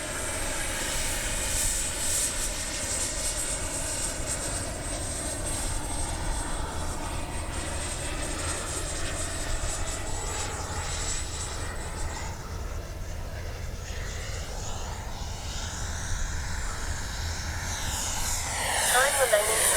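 An Arrows RC F-15 64mm twin electric ducted-fan jet model flies past with a steady loud whine and roar. The pitch shifts as it passes, and the sound swells near the end.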